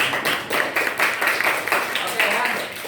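Students clap together in a classroom after a summary is read aloud, a brisk run of close, steady claps that fills the clip, with a voice mixed in.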